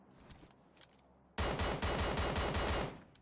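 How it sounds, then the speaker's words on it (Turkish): Video game firefight gunfire: faint distant shots, then a loud burst of rapid automatic fire that runs for nearly two seconds before cutting off. "Tarafta çatışma var."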